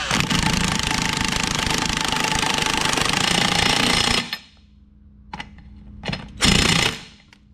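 An impact wrench works on a Mercury 75-115 HP outboard motor during a 300-hour service, a loud, continuous rattling hammer run of about four seconds, then several short bursts close by.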